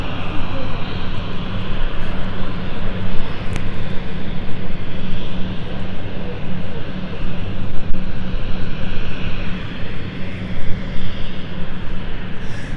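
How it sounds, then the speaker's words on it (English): A KLM airliner turns on the apron at London City Airport, its engines giving a continuous loud, steady whine and rumble that rises slightly in places over the long stretch. "You can see the KLM doing a complete turn, so that way when they're ready to depart they can just go straight out"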